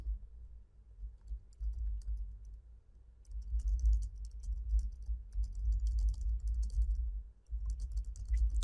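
Someone types on a computer keyboard, entering an HTML paragraph. The keys make close, quiet clicks in quick bursts with short pauses between them, and no one talks.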